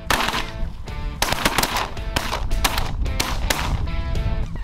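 Rapid volleys of loud, close shotgun blasts from hunters in a blind shooting at snow geese in Canada, several shots overlapping in quick succession.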